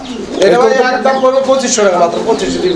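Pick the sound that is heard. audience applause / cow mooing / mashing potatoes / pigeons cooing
pigeons cooing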